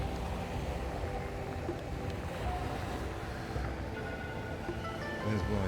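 Steady wind rushing and buffeting outdoors in Thailand, a continuous broad roar with some rumble against the microphone.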